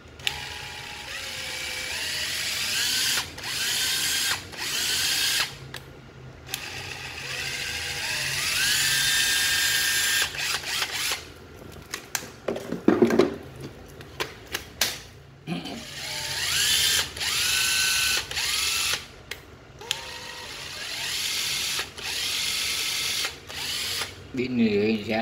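Used Japanese cordless battery drill, a two-battery kit with one charger, whirring in steady high-pitched bursts that start and stop repeatedly, with a ratcheting mechanical edge, close and fairly loud, with brief pauses between runs.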